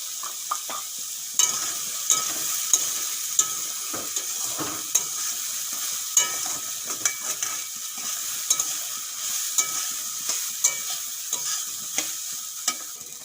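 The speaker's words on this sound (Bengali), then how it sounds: "খুব সুন্দর করে সয়াবিনগুলো আমি ভেজে নিয়েছি" Soybeans frying in a pan with salt and turmeric, a continuous bright sizzle broken by repeated scraping stirs and light spatula knocks.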